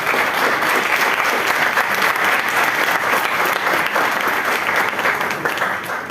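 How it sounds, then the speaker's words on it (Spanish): Audience applause after a presentation at a legal conference on gender perspective in criminal oral trials: loud, steady clapping from a large crowd that holds for several seconds and eases slightly at the end. "para quien pido un gran aplauso por la presentación y la oportunidad"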